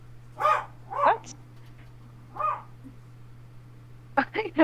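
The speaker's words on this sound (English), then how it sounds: "I had a robotic bark there." A dog barks a few times in short, separated bursts, sounding thin and processed through a voice-chat microphone, with a quicker cluster of yips at the end; a steady electrical hum sits underneath.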